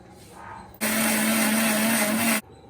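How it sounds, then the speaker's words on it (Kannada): An electric mixer grinder whirs loudly for about a second and a half, grinding red chili and coriander powder for an avarekalu huli curry. The motor starts and stops abruptly, with quiet room noise before and after. "ಇದಿಷ್ಟನ್ನು ಮಿಕ್ಸಿಗೆ ಹಾಕೋಣ"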